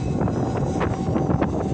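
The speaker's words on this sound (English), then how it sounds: "It's windy. I'm gonna see how it holds up in the wind." Wind blows outdoors on a gusty day, a steady rushing rumble with soft buffeting puffs against the microphone, no voices.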